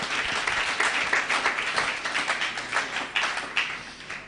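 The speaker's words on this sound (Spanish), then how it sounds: "Un aplauso." A church congregation at an annual retreat in Bonaire claps for a course graduate, with moderately loud, uneven patter and a few individual hands standing out, with no voices.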